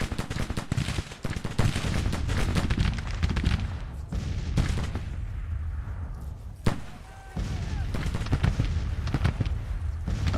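Sustained Civil War battlefield gunfire in Grand Tactician: The Civil War: rapid overlapping musket shots and heavier cracks pour out almost without pause, loud and near, broken by one sharp bang and a brief lull.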